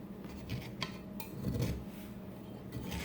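Knife cutting light, fluffy cornbread in its pan, with soft scraping and a few light metallic taps against the pan, fairly quiet and close.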